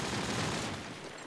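Desert Eagle pistol fire in a competitive video game match, heard as a brief, dense burst of loud cracking noise that tails off slightly, with no talking.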